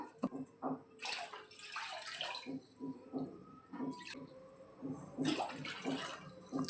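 Water splashes and trickles steadily into a bowl, three glasses poured in, with a few brief louder gushes as it is poured; no voices.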